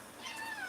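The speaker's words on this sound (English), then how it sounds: "Let me help my kitty cat." A pet cat gives a soft, brief meow, faint and close against a quiet room.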